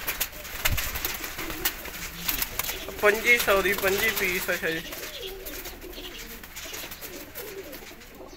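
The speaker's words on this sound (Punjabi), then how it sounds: "ਐ ਵੀ ਕਬੂਤਰ ਚੈੱਕ ਕਰੋ" Pigeons for sale coo repeatedly in soft, rolling calls, with someone talking over them throughout and a brief flutter-like burst early on.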